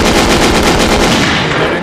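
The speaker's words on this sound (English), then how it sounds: "Give my gunshot." A gunshot sound effect: a loud, dense burst of rapid firing that fills the whole short clip before tapering slightly at the end.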